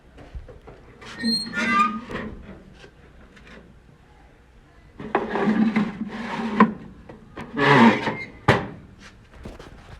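A rack of ribs in a pan slid into a 450-degree oven: wooden and metal scraping and rubbing in a few bursts, with quiet pauses between, close by.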